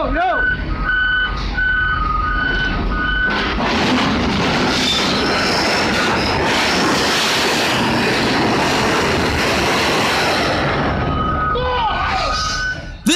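Heavy industrial noise while a train is unloaded, a loud sustained rumble and grinding with reversing beeps at the start and end, and voices shouting in the background.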